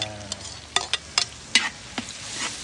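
Garlic and onion sizzle in a frying pan, a steady hiss with several clicking scrapes from stirring, close and moderately loud.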